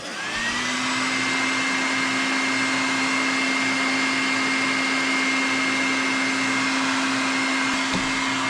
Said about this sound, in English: All right, put the heat gun to it.